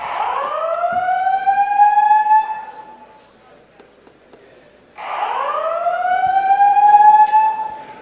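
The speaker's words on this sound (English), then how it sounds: "I'm usually not of a mind to continue presentations when the klaxon horn's going on." A klaxon-style alarm horn going off in a conference presentation hall, two long rising wails a few seconds apart with a short quiet gap between, loud and dominant in the room.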